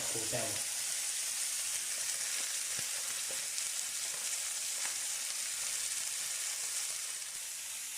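Meat sizzles steadily on a hot griddle, a dense continuous crackling hiss with occasional small pops, close and even throughout.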